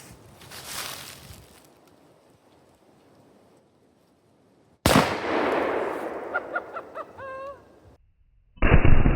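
Loud gunshots from a .357 Remington Maximum fired at a cinder block outdoors, a sharp blast with ringing decay followed by a long quiet gap, then a second report and a third burst near the end.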